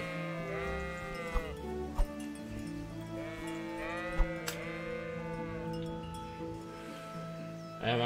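Sheep bleat repeatedly in the Kingdom Come Deliverance video game, with several overlapping calls from a nearby flock, layered over a steady ambient drone and a few sharp clicks.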